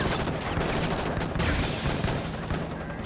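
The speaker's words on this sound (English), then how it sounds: "I'm fighting a helicopter" Helicopter attack in the PS2 game Enter the Matrix, with dense bursts of gunfire and booming impacts churning loudly and continuously over a rumbling mechanical background, no talk.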